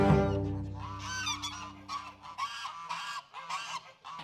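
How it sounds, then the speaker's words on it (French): Geese honk in a farmyard within an eighteenth-century Acadian fortress, with a burst of overlapping nasal calls at the start followed by a steady series of repeated honks at moderate distance. "Et il y avait des oies dans les forteresses?"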